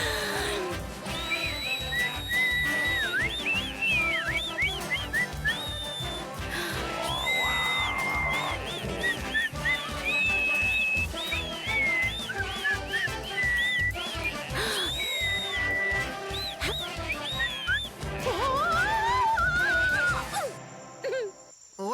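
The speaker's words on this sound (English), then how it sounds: "I was overindulging in whistling." Cartoon character whistling at length in a busy scene from the animated series KikoRiki, a run of bright, gliding whistled tones over music and effects, continuous and fairly loud throughout.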